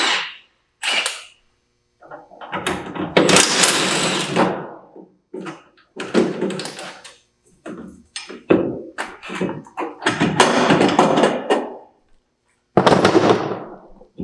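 Brake calipers being removed from a 1999 Trans Am in a garage: irregular bursts of loud metallic clanks, scrapes and knocks separated by short silences.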